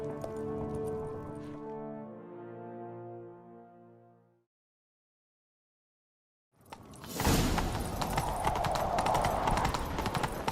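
Hooves clatter in a steady galloping rhythm, loud and close, after a swell of orchestral music fades to silence, in The Witcher 3: Wild Hunt.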